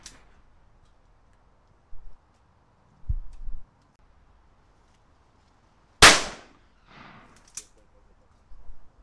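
Shotgun fired at wood pigeons in the open countryside, one loud sharp blast standing out among quieter clicks and thumps, with brief voices and near silence between.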